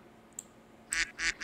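Short honking calls from a goose in a Spanish-language Sims-style life simulation game, a faint blip first, then three loud, harsh bursts in quick succession near the end.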